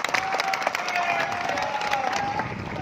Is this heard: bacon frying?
no